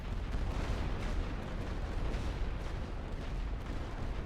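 Artillery barrage in The Great War: Western Front, a continuous deep rumbling roar of distant shelling that never lets up.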